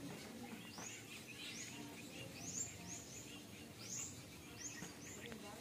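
Small birds chirp repeatedly in short bright bursts, echoing faintly inside Paradise Cave on Camotes Island, with soft voices murmuring underneath.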